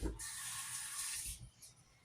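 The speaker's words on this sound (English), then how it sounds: "I'm going to add a little bit more water" A little more water pours into a pan of beef and noodles, a soft steady hiss lasting just over a second before tapering off, quiet and close.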